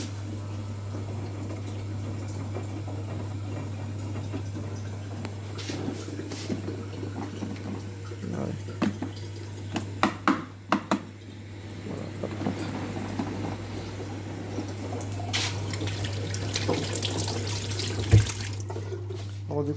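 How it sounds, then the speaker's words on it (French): Tap water running into a pot at a French home, a steady close rush with a few louder splashy bursts midway, under a constant low electrical hum, with faint talk in the background. "je lui mets un petit niveau d'eau"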